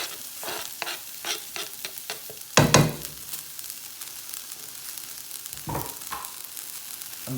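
Garlic frying in a pan gives off a constant close sizzle, with a spatula scraping and tapping repeatedly and one louder clatter partway through.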